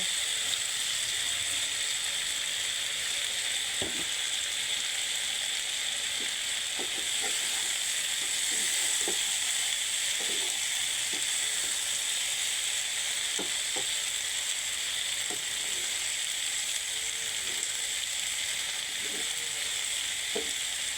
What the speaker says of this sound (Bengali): দেখুন বন্ধুরা, কত সুন্দর ঢেঁড়স ভাজা ভাজা হচ্ছে।